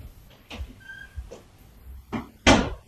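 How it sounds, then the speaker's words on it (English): A bedroom door pushed shut in a home, ending in a firm thud with a short burst of broadband noise; before it, scattered light knocks and creaks come from nearby handling. "let me shut my door."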